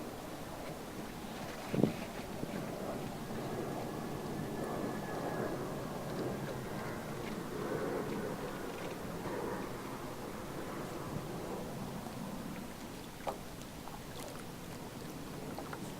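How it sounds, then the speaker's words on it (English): Steady wind and water noise from a Capri 14 sailboat moving slowly, with soft splashing and a brief knock near the start; no talking. "Now we're sailing."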